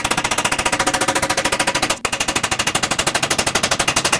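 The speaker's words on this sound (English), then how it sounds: "So at this point, we'll slowly hammer it in." Rapid, machine-like hammering as a bearing is driven into a 2009-2010 Dodge Ram 1500 rear axle housing: a fast, even stream of sharp metallic impacts with a brief pause midway, loud and close.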